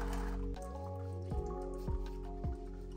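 Oil drips one at a time from a Honda Civic transmission, each drop landing with a clear liquid plop into oil below, slow and irregular, close up with no talking.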